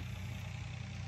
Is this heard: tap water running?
no